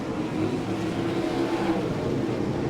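Sprint cars at the All Star Circuit of Champions race at Fremont, Ohio roar steadily as they come off turn four in a heat race, a loud continuous engine drone heard from the grandstand with no talk over it.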